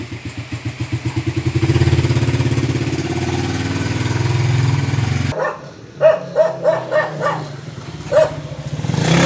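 Motorcycle engine idling loudly and steadily during a road test of a 2018 Raider 150 carburetor model after a full engine refresh, then a dog barks nearby in a rapid series of several barks over the quieter engine.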